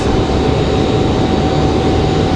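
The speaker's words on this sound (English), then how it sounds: "That one firing engines now." Airliner jet engines spooling up at Raleigh-Durham International Airport, a steady loud roar with a constant whine, continuous and close, no voices.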